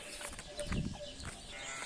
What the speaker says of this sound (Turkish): Koyunlarımızı da göstereyim ben size